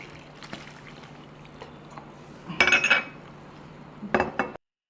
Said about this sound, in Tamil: இது எல்லாத்தையும் நம்ம தண்ணி ஊற்றி மிக்ஸ் பண்ணிக்க வேண்டியது தான்.